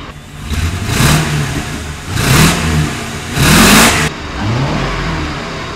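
A 1966 Ford F100 truck on a Crown Victoria chassis swap with a new motor revs hard on a test drive, three or four loud surging rev cycles with the engine rumbling close by between them.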